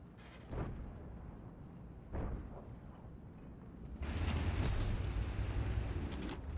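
A heavy tank cannon boom from the Strv K in a tank video game, with a rumbling tail, a second thud shortly after, then a loud sustained roar and rumble to the end.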